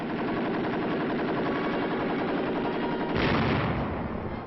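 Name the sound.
50 caliber aircraft machine gun comparison firing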